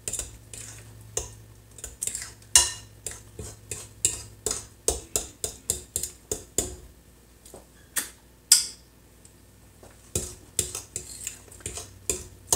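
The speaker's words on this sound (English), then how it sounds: "I'm just mixing it well." A spoon scrapes and clinks against a bowl while mixing thick peanut butter cheesecake batter, in a steady series of sharp taps and scrapes, close and fairly quiet, with no talking.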